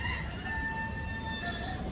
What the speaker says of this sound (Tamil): ஓ சேவல், நான் வளர்த்த சேவல்.